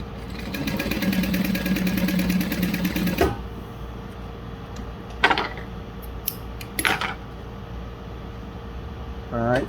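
A Juki DU-1181N walking-foot sewing machine stitching Luxe Nylon, a canvas-like fabric, in a fast, steady mechanical run of about three seconds that stops, followed by quiet handling clicks and rustles.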